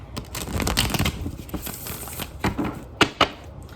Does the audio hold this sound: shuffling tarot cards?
yes